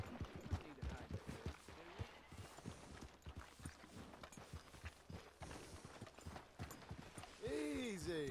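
Horse hooves clip-clop at a steady walking rhythm in Red Dead Redemption 2, close and fairly loud, with occasional voices speaking over the footfalls near the end.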